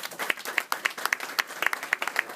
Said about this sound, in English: give a nice round of applause to all the county commissioners